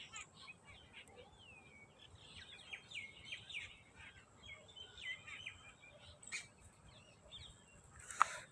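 Many birds chirp and tweet outdoors in open sky at a spot where turtles are fed, a busy stream of small high calls, fairly faint and at a distance, with occasional voices nearby.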